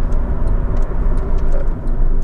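A Honda Civic 1.8 i-VTEC pulls up hard under firm braking, heard from inside the cabin as steady loud road rumble and tyre noise with light ticking and no voices.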